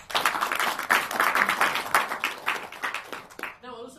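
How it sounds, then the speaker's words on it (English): A small audience at a speaking club meeting claps for a speaker named Daniel, uneven, fairly close hand claps in a modest burst that thins out and gives way to a voice at the end. "So very well done, Daniel. Let's give him a round of applause."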